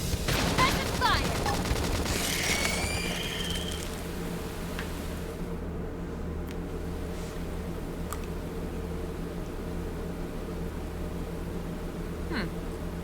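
Rapid weapon fire in the video game Xenoblade Chronicles X Definitive Edition, a dense burst of quick shots over the first few seconds that then gives way to a low, steady background hum with occasional faint clicks.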